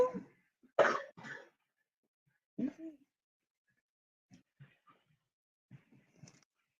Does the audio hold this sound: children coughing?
yes